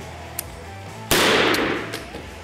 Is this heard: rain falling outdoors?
no